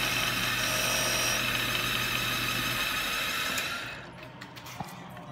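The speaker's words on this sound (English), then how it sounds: "When I talk about scraping, that's just what I was doing there." A wood lathe whirs with a steady broadband scraping hiss as a tool scrapes the turning wood, fading out as the machine winds down near the end.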